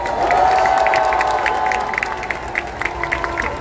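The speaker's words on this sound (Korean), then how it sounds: "큰 박수 부탁드리겠습니다" A large outdoor rally crowd at a national gathering in Yeouido, Seoul, claps and cheers, with sustained broadband applause, scattered shouts and a drawn-out voice rising above the din before it thins to sparse claps.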